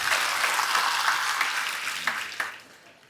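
Applause from an audience gathered for a devotional discourse, a dense patter of many hands clapping steadily and fairly loud, then thinning and fading out toward the end.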